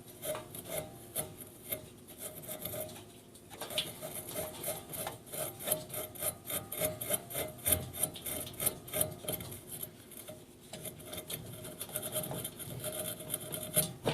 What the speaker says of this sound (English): I've got a green Scotch-Brite pad. I'm just gonna make sure we got a good